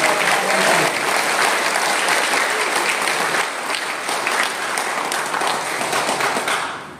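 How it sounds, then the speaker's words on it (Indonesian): Audience at an election candidates' debate breaks into loud, sustained applause, dense steady clapping filling the room for the whole stretch before tapering off at the very end. "mari kita berikan aplaus yang meriah"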